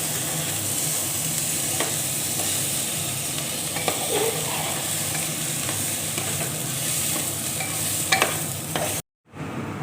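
Soaked rice frying by itself in a pan for mutton pulao makes a continuous close hiss and sizzle, with occasional scraping stirs, before cutting to silence near the end.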